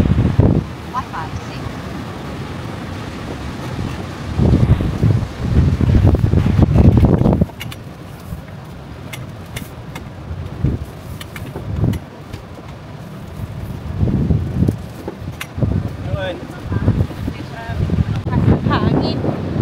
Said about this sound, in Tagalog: The wind is crazy.